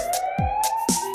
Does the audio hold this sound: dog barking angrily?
no